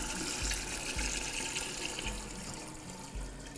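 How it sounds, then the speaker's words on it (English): Water pours steadily into a container of lime moonshine distillate, diluting it to about 40% ABV, a continuous close splashing flow with a few soft bumps and knocks. "So we're adding water,"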